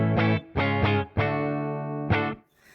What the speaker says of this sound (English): I'm going to show you going just into a clean amp